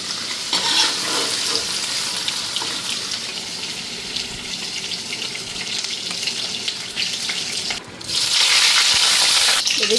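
Paneer frying lightly in a pan, a steady close sizzle with stirring scrapes running throughout, the sound briefly dipping near the end before returning louder.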